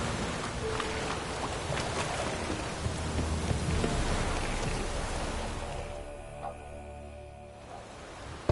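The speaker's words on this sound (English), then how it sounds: "The storm, damn it." A video game storm on PS4 with steady, dense rainfall, a low rumbling of thunder underneath, and the downpour thinning slightly toward the end, without speech.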